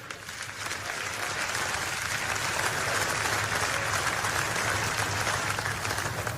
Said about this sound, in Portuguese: Vamos lá, glorifica o Senhor com palmas aí.